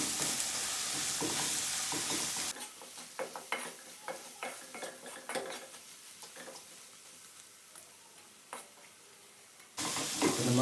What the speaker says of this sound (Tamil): இப்போ இந்த மசாலாவை இந்த எண்ணெயிலே ஒரு 2 நிமிஷம் அந்த மசாலாவுடைய பச்சை வாடை மாறுற வரைக்கும் இதை அப்படியே நல்லா ஃபுல்லாக வதக்கிக்குவோம்.